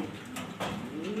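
A pigeon coos close by in a steady, rolling low call, with a brief brighter flutter-like burst in the middle and the cooing continuing smoothly to the end, no voices over it.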